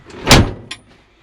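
The cab door of an old tractor, its seal worn, shuts with one loud, close clunk, followed by a fainter rattling knock as it settles.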